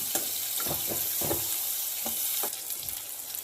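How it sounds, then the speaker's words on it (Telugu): Coriander seeds and onions frying in hot oil give a steady close sizzle, with several soft stirring scrapes over it and no talking. "అది కూడా నూనెలో ఆనియన్స్తో పాటు బాగా వేయించుకోవాలి"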